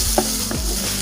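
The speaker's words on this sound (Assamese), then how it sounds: "এতিয়া আমি অলপ সময় ফ্ৰাই কৰিলো।" Onions sizzle steadily in a hot pan while being stirred for a kadai chicken gravy, with a few distinct scraping strokes of the spoon cutting through the constant close frying hiss.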